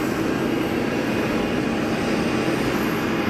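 An Iberia airliner's jet engine spools up at Geneva Airport, a loud, dense, continuous roar that stays steady and close for the whole stretch with no talking.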